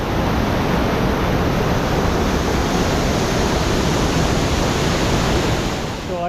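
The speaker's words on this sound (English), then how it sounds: "I think it's the top of Hidden Falls" Rushing water at the top of Hidden Falls in Cascade Canyon, Grand Tetons, a dense, steady, loud broadband roar that stays unbroken and close throughout, with no voices heard.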